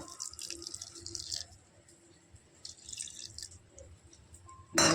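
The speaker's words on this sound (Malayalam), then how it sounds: "അതിലേക്ക് നമുക്ക് കുറച്ച് വെള്ളം ഒഴിക്കുക" Water is poured into spiced dosa batter in a home kitchen, giving light trickles and drips in short bursts, fairly faint and close, with a sharper splash at the very end.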